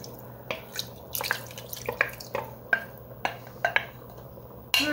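Water sloshing and dripping inside an emptied can of whole tomatoes in a kitchen, with light tapping and clinking, quiet and close, in short irregular bursts.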